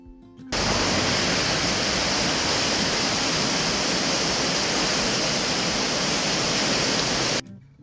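A river swollen by heavy autumn rain rushes past in a loud, steady roar of broadband water noise that cuts in abruptly and holds unbroken for about seven seconds before stopping.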